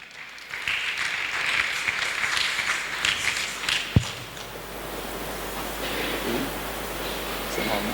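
A church congregation applauding and acclaiming the Lord: a dense wash of clapping and cheering voices fills several seconds, then ends with a sharp thump and gives way to a quieter murmuring hall.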